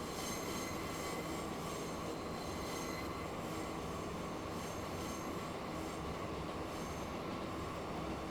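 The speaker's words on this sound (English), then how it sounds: "Listen to those flange sounds, don't they sound fantastic?" Steady rumbling of a train rolling along the tracks with continuous high-pitched metallic wheel flange squeal ringing over it, no voices, in the video game Transport Fever 2.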